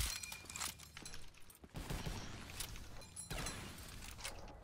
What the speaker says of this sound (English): We got the M1 Garand with its gigantic ping.